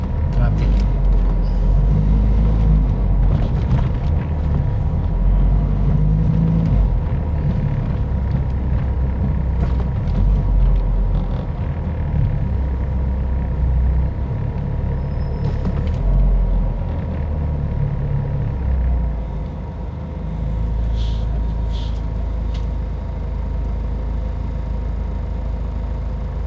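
Car driving in congested traffic on C5 in Pasig City, a steady engine and road rumble throughout with people talking over it.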